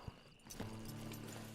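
A horse's hooves clip-clop in Red Dead Redemption 2. A few hoof clops are followed by a steady, low in-game drone.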